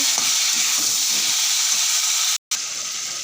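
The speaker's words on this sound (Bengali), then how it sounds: "সবজিগুলো আগে ভালো করে একটু ভেজে নেব" Vegetables sizzle steadily in a hot karahi seasoned with radhuni and bay leaf, a loud continuous frying hiss with faint stirring scrapes and one brief cut.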